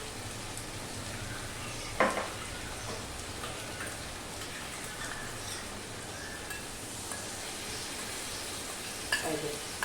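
Spices for a dried fish and potato curry sizzle quietly in a pan, a soft continuous frying hiss broken by a couple of sharp stirring scrapes.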